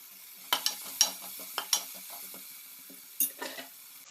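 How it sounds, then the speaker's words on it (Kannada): Cut green chillies added to cooked tomato in a pan, with a steady soft sizzle of frying underneath several sharp clinks and scrapes of a spoon stirring against the pan, close and fairly clear. "ಈಗ ಒಂದು 2 ಹಸಿಮೆಣಸಿನಕಾಯಿ ಹೀಗೆ ಕಟ್ ಮಾಡಿ ಹಾಕ್ಕೊಳ್ತೇನೆ"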